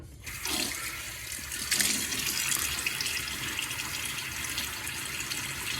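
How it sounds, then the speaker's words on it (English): Tap water runs steadily from a faucet into a sink as a face is wetted before a shave, a continuous close splashing hiss with a brief surge partway through. "let me get my face wet."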